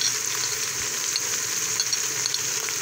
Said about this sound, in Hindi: अब इसकी अच्छे से भुनाई कर लेते हैं।